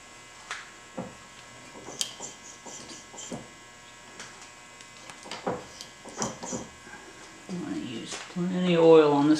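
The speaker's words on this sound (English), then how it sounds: "Got the lathe in low gear." A lathe running in low gear while a stainless steel workpiece is tapped by hand, giving a steady faint mechanical hum with scattered clicks and knocks, and a person talking over it.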